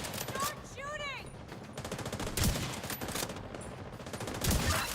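Rapid gunfire from The Division's combat in a ruined New York, bursts of shots crackling in fast succession with game sound effects and some voice underneath, loud and close throughout.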